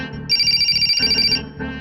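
A telephone rings with a bright, repeating electronic tone for about a second, set in a Hindi film comedy scene, with a low murmur of voices and background sound underneath.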